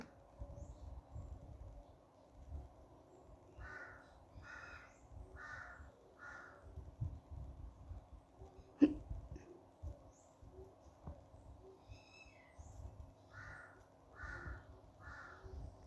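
Several crows caw in short repeated bursts of three or four calls, moderately distant, over a quiet low outdoor hum.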